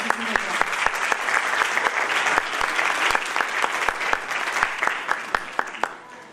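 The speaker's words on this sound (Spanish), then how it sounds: "un fuerte aplauso, y al auditorio presente también" Audience at a closing panel of a communications event giving a sustained round of clapping from many hands, with sharp individual claps standing out near the microphone.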